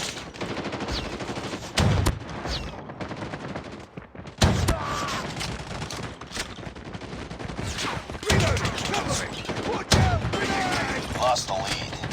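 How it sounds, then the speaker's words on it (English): Rapid shotgun fire in a first-person shooter video game, dense repeated blasts with brief gaps, alongside game voice callouts and player chatter. "rapid fire."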